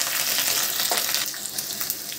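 Steady, close sizzling of cumin seeds frying in hot oil, a dense crackling hiss that holds for the whole stretch with small pops scattered through it.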